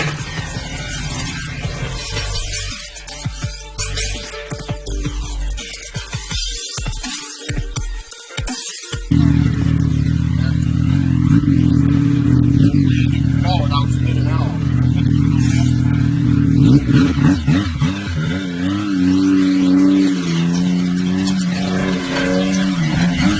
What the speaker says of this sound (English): Hope you enjoyed the sound clips of this new can.